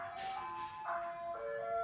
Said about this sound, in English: Boy, that ice cream truck is extremely loud.